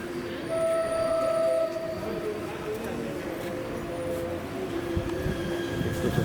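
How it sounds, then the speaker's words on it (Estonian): A train arriving at a station rumbles steadily nearby with a low mechanical drone and faint squealing tones from the wheels, continuous throughout. "Nii, rong hakkab tulema."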